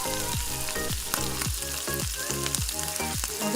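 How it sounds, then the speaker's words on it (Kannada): Bread frying in butter in a pan gives a steady, close sizzle, with a few soft scrapes and knocks from stirring or turning running under it and no talking. "ಆ ಪ್ಯಾನ್ಗೆ ಬಟರನ್ನು ಹಾಕಬೇಕು ಸ್ವಲ್ಪ. ನಂತರ ಬ್ರೆಡ್ಡನ್ನು ತಗೊಂಡು ಅದನ್ನು ಸ್ವಲ್ಪ ಬಿಸಿ ಮಾಡ್ಕೋಬೇಕು."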